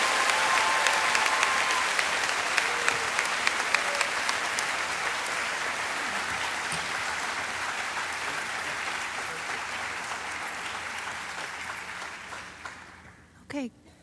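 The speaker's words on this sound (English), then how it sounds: "please give them a warm round of applause" A school audience breaks into warm applause, many hands clapping steadily at first and then slowly thinning and fading, with a brief sound near the end after the clapping dies away.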